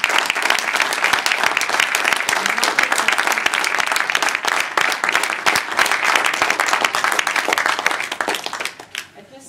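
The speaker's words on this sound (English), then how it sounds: "Let's give a big applause for these very" A room full of people at a Toastmasters-style speech contest breaks into loud, sustained applause, dense clapping that carries on steadily for several seconds before tapering off at the end.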